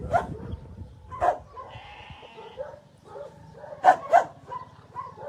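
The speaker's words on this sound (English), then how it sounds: "And this is Moses, the sheep" A sheep at an animal shelter bleats several times in short, close calls spread across the clip, with faint background activity between them.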